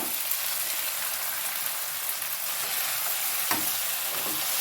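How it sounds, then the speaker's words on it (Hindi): Chopped roasted eggplant for Punjabi baingan bharta frying in a pan, a steady, soft hiss and sizzle throughout, with the occasional scrape of a ladle stirring near the end. "सब चीज़ों को अच्छे से मिक्स कर लेंगे और बीच बीच में कड़छी चलाते रहेंगे"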